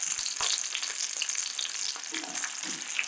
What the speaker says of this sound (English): I can already tell by the sound that oil's a tad hot